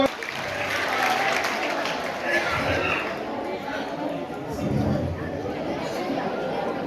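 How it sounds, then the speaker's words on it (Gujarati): An audience at a Jain religious talk claps together in a sustained burst of applause, mixed with crowd chatter and voices throughout. "બહુ સરસ તાળીઓ"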